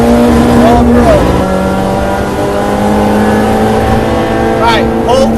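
Mini Challenge Clubsport race car accelerating on track at Cadwell Park, a loud, close engine drone rising through the revs with a shift, while a voice talks over it throughout.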